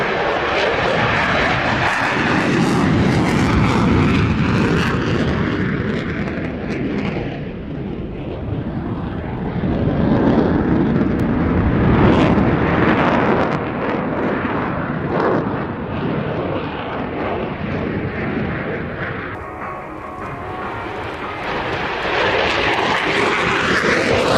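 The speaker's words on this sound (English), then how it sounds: "you can certainly feel the noise from this aircraft" Loud, roaring aircraft engine noise fills the air continuously, swelling and easing slightly as the plane passes overhead.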